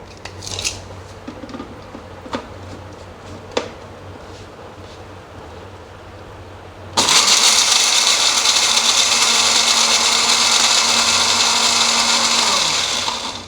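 An electric spice grinder crushing black and white cumin for BBQ masala: a few loose rattles and taps first, then the motor kicks in with a loud, harsh whirring roar that holds steady for several seconds.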